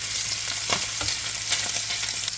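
Beef sausage frying in a pan, a steady crackling sizzle with scattered pops and a brief stirring scrape, close and alone without talk.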